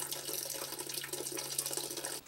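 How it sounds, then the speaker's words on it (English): Turkey soup broth is poured back into a pot of mixture, giving a soft, steady liquid stream for about two seconds that stops abruptly, heard quietly with no talking. "separate the grease and pour the fluid back into my mixture there"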